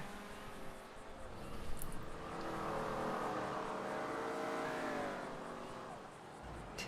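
A Stinger race car in the video game GTA drives along with a steady engine drone that swells and revs through the middle, while voices talk over it intermittently.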